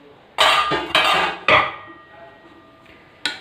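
The lid of a pot of Sindhi biryani, fresh from resting on dum, is lifted with a few sharp metallic clanks and rattles, close by, followed by a quieter final clink.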